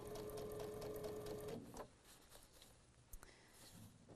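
A sewing machine stitches quilt fabric in a quick, close, steady whirring run with a thin whine, then stops after about a second and a half, leaving a quiet room with faint fabric handling.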